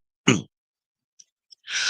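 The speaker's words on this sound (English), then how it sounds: "Now all of a sudden I'm coughing." A single sharp cough bursts out near the mic, followed by a brief pause with faint clicks and then a breathy exhale.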